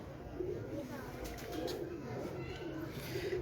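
Pigeons coo softly and steadily on a rooftop loft in Lahore, a low murmuring chorus that keeps up throughout under faint background noise.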